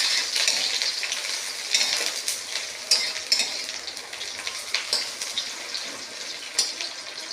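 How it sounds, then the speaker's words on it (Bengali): Chopped onions with dried red chillies and bay leaves fry in hot oil in a wok, a steady bright sizzle with crackling spikes and occasional stirring scrapes, close and continuous with no talking. "আমার পেঁয়াজটা লাল লাল ভাজা হয়ে গেছে"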